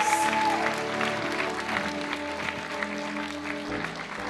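Clapping from the congregation at a church young adults worship service, mixed in with sustained music and organ-like tones, fairly subdued and continuous throughout.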